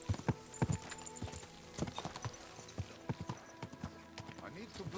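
Horse hooves clip-clop steadily in Kingdom Come: Deliverance 2, repeated sharp hoofbeats close by with a voice speaking over them.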